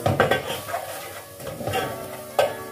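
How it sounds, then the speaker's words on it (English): A spoon stirs food around a pot while cooking, giving a few scraping clinks and light clatters with a soft sizzle underneath, close and fairly quiet. "let's stir it a little bit so that it spreads around really nice"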